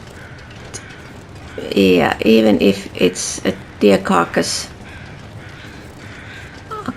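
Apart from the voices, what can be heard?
birds cawing in video game The Long Dark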